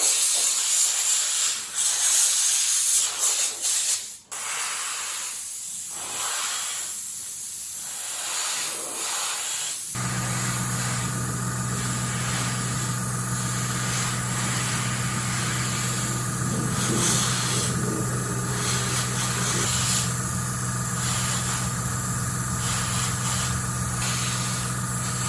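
Steady, loud hiss of a spray can or airbrush applying primer to 1/200 scale model guns for the IJN Mikasa battleship, continuous and close, with a change in tone partway as spraying resumes.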